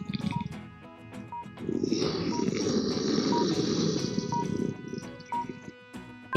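A lion roars in a deep, rough, sustained rumble lasting a few seconds. Short clicks and a soft background music tone come before and after it, and no one speaks.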